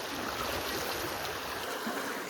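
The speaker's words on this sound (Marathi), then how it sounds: "हो किटली बघा, ते पाणी भरायला लावलंय ना." Water runs steadily into a kettle in a home, a continuous close rushing flow with no break through the whole moment.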